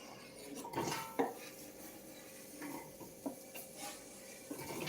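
Greens sautéing in a pan over medium-low heat for a green sauce, with a quiet, steady soft sizzle beneath scattered clinks and scrapes of a utensil against the pan.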